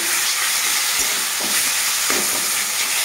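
Taro greens frying in a pan as spices are mixed in, a loud, dense, continuous sizzle with soft stirring movements beneath it, close up.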